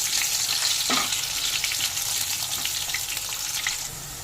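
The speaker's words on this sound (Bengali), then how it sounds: "এবার আলুগুলো একটু হালকা লাল করে ভেজে নেব।" Potatoes frying in mustard oil in a wok send up a loud, continuous sizzle, with a sharp spatter burst near the start and a steady crackling hiss that eases slightly at the end.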